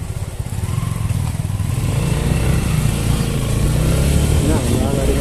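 A motorcycle rides along a road near Dadagau in Nepal, its engine droning close and steady with rough low rumble building slightly, while people talk over the engine noise.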